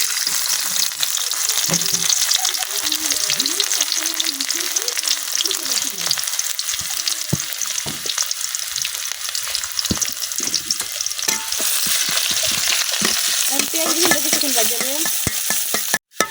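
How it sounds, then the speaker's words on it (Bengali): Onion and garlic fry in hot oil in a heated wok for a winter vegetable curry with dried mola fish, a loud, steady sizzle running the whole time, broken by scraping stir strokes and a few clatters. "তেলটা কিন্তু গরম হয়ে গেছে, এখন দিয়ে দেন পেঁয়াজ রসুন"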